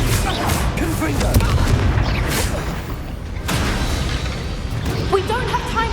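A Confringo fire spell explodes during combat in Hogwarts Legacy, with dense booming blasts and crackling bursts rolling continuously for several seconds amid loud battle noise.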